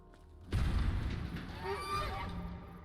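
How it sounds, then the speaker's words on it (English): A goose honks loudly in the video game The Unfinished Swan, a sudden burst followed by a few ringing honks over a low rumble, with no talking. "Jurassic Goose!"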